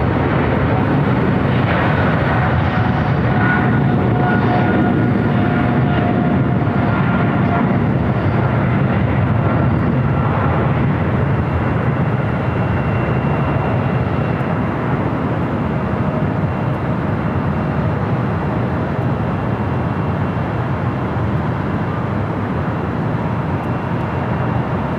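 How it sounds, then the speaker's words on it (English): A Swiss airliner on flight 41 to Zurich rolls for takeoff on runway 25 right at LAX, its jet engines a loud, steady broadband roar that holds throughout with only slight swelling. "We also have Swiss, flight 41, heading back to Zurich, rolling down"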